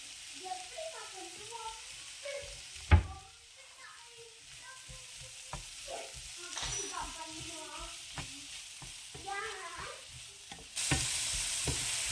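Onions sauté in a pan for beef liver fry, a low sizzle with irregular stirring knocks and scrapes, one sharp clank early on, while a voice talks intermittently over it.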